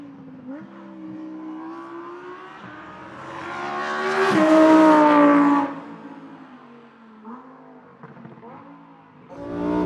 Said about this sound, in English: the thing that dominates the experience is still that big mid-mounted V10